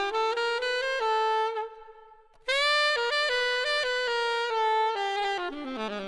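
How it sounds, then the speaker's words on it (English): Solo saxophone phrases over a minor harmony leaning on the natural sixth and flat sixth, with a brief pause partway through, then continuing in clear, close, sustained tones that slide down at the end. "my go-to thing on a minor thing is I love fooling with the"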